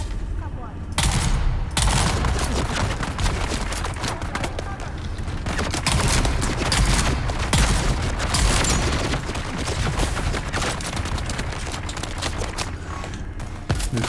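Rapid, continuous gunfire in the video game Dune Awakening, dense overlapping bursts and impacts running almost without pause, loud and close.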